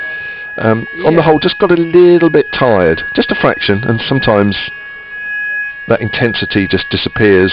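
A fire alarm at a county cricket ground during a Kent vs Hampshire match holds a steady, high electronic tone throughout, sitting faintly beneath continuous commentary from people talking.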